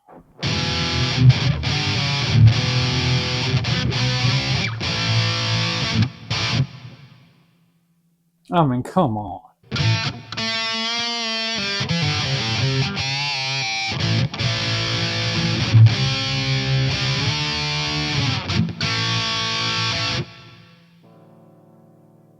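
Heavily distorted high-gain electric guitar, played through a Fortin Cali rig, chugs loud riffs in bursts, pausing briefly midway while a voice speaks, then resumes before ringing out.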